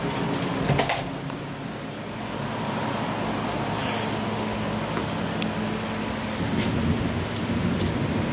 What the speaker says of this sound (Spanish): Y ahora son truenos suavecitos.